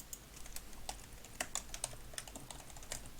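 Rapid clicking keystrokes on a computer keyboard come in irregular bursts, close and fairly quiet, while someone plays a board game online through Vassal.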